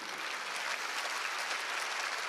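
A large congregation at an evangelistic rally in Jeonju's indoor gymnasium claps together in a dense, even wash of applause throughout.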